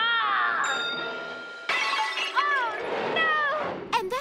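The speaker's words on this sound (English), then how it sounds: "And that is how Frankie, alone, smashed the statue." A statue shatters in a Monster High cartoon, a loud crash that breaks into tinkling, glassy debris, with animated characters talking over and around it.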